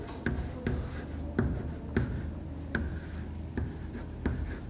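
Pen writing a date on paper, a scratchy stroke sound broken into several short bursts with taps at each new stroke, close and soft, with no talk.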